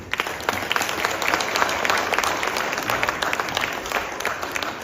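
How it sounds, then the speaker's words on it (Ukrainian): Sustained applause from an outdoor crowd at a Cossack festival in a Ukrainian village, dense steady clapping with a few sharper claps standing out, carrying on for several seconds. "Ваші оплески, будь ласка."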